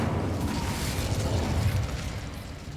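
An Incendio fire spell bursts in Hogwarts Legacy, a loud, sustained roaring blast of flame with a rumbling low end that carries steadily for about three seconds.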